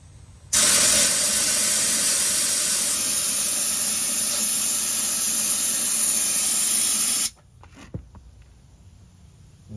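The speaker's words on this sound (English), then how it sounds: "I'll spray in this hole and you'll see it go all the way out the back." Woolwax undercoating sprayed through a wand into the frame holes of a car in South New Jersey, a loud, steady, close hiss that starts abruptly, runs for about seven seconds and then cuts off, leaving faint background.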